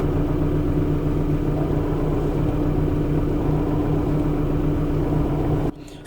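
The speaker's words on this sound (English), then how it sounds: "So I think I'll put that down to a dodgy clutch bearing" A Mk5 Ford Fiesta engine idles with a steady low rumble and a faint whine from a worn clutch bearing, running loud and constant before cutting down abruptly at the very end.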